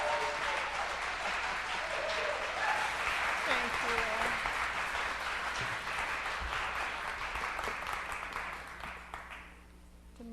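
A congregation at a Golden Gate church service applauds to welcome someone speaker, loud sustained clapping that fades toward the end, with a brief spoken thanks near the close.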